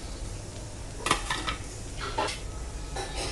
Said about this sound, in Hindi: और अब मैं इसमें डाल रही हूँ ब्रोकली